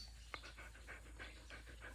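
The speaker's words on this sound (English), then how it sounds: "This bloody dog." An indoor dog panting fast and steady at home, quick rhythmic breaths close by and quiet, with a brief soft whimper-like catch near the start.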